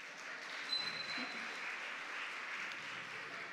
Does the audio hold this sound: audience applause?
yes